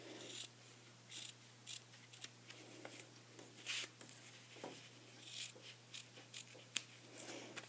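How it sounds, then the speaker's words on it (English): Scissors snip around the edges of a tied gift bow, a series of quiet, crisp cuts in uneven bursts with brief pauses, close by and with no talking. "I'm just going to trim off the edges."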